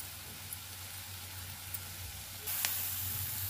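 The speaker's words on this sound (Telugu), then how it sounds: "ఆయిల్ వేసుకొని సన్నగా తరుక్కున్న ఉల్లిపాయలు వేసుకొని వేయించుకోవాలి" Sliced onions fry in hot oil for a potato and raw cashew curry, a soft continuous sizzle that rises sharply in the last second, with a faint low hum underneath and no talk.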